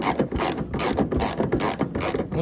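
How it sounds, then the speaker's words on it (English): Rapid, close clicking of a ratchet wrench as it loosens a headlight bolt on a 2011 Ford F250, the pawl ticking in quick, fairly regular bursts with nothing else heard. "So now I'll take my ratchet. Hook it up to it."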